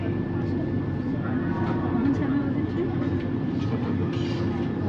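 Steady rumbling interior of a moving Vande Bharat train, a continuous loud drone with a constant hum and faint rattles throughout, no distinct voices standing out.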